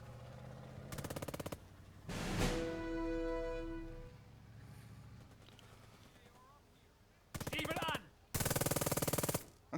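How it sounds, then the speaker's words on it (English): Machine gun fire in the WWI strategy game Burden of Command rattles in several sharp, rapid bursts, loud and close, with a droning tone and softer game sounds between the volleys. "So their MG's shooting my MG."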